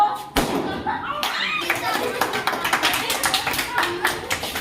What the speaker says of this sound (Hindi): ओए सबको बोलना भी और ताली भी बजानी।